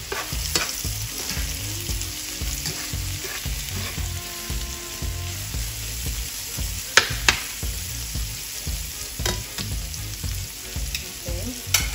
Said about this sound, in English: I'm gonna give it another stir here.